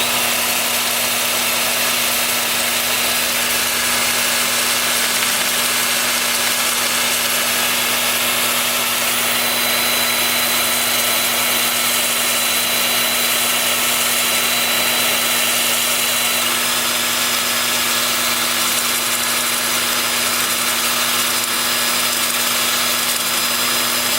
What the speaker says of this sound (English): with the lathe spinning in reverse, at about 350.